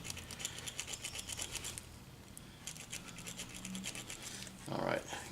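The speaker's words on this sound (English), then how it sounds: "wire mesh to clean out your front of the cylinder" Wire mesh scrubs the front of a revolver cylinder in steady, rapid scratching strokes up close, with brief pauses between bursts and a louder rub near the end.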